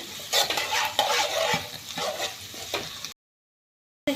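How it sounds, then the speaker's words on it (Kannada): Onion poha is stirred and fried in a pan, a spoon scraping and tossing it in irregular strokes over a soft sizzle, close up, then a brief silence. "ಎಲ್ಲವನ್ನು ಹಾಕಿ ಮಿಕ್ಸ್ ಮಾಡುವ ಇದನ್ನು ಸ್ವಲ್ಪ ಉರಿಬೇಕು"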